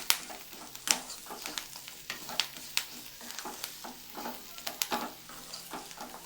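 Prawn fry with finely chopped coriander stirred in a hot pan for a restaurant-style dish, a steady sizzle broken by repeated scraping and clinking strokes of the spoon, close and busy throughout.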